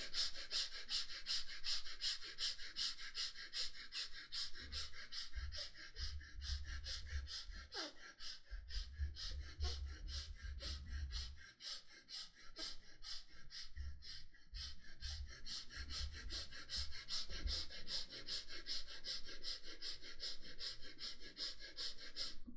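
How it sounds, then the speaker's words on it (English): Fast, rhythmic chest breathing through both nostrils, a steady run of quick sharp puffs and sniffs close to the mic, continuing without pause for over twenty seconds at low volume. "start chest breathing quick and fast through both the nostrils for 2 minutes"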